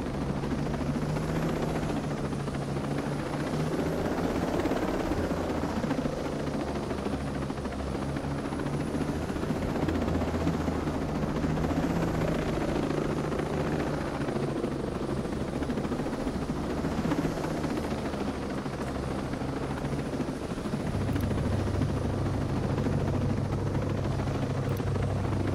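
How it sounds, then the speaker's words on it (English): A helicopter in the video game Ghost Recon Breakpoint comes in to land, its steady rotor thump and engine whine loud and continuous throughout, with the low drone shifting slightly near the end. "Hear a helicopter landing."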